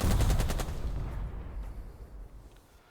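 Burst of gunfire from a recon-by-fire order in the Burden of Command war game: rapid, loud repeated shots at the start that fade into a decaying rumble, with no voices.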